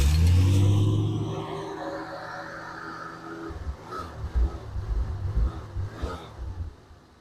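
A car engine catches after cranking, with the starter kicking in and out and not making good contact. A deep rumbling roar fades, then uneven, sputtering pulses and knocks follow as the engine struggles.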